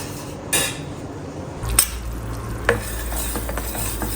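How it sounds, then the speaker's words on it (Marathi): Sugar melts and bubbles in a ghee-greased appe pan, a faint steady sizzle broken by a few light metallic clinks of stirring. "साखर तर वितळलेली आहे बबल्स पण आलेले आहे पण अजून ते लिक्विड फॉर्ममध्येच आहे"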